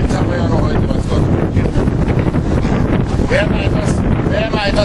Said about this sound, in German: Und Wind haben wir ja noch heute